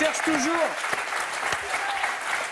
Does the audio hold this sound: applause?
yes